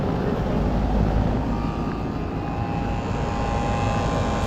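A large Carrier Gemini HVAC condensing unit running outdoors, a loud, steady broadband roar with a deep low rumble and a faint tonal hum, constant throughout and with no voice.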